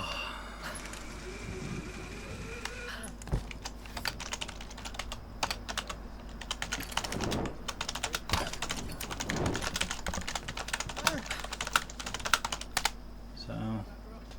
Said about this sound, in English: I'm typing away as well.